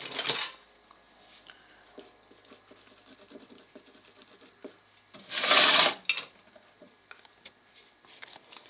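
A clay pottery pitcher is trimmed with a tool, making soft, close scraping and rubbing strokes with small ticks, broken by two louder rushing bursts, one at the start and one past the middle.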